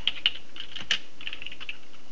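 Someone types on a computer keyboard, giving a quick run of light, close key clicks with a few sharper taps.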